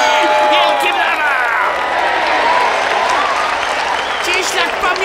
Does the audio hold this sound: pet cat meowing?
no